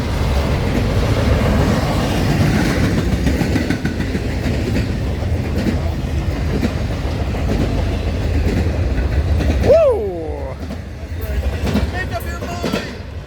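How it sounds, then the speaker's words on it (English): A westbound freight train rolls past loudly on track 1 at a station in Fullerton, a heavy continuous rumble and rattle of wagons with a brief wheel squeal near the end, people talking over it. "Here comes another westbound freight coming up track 1."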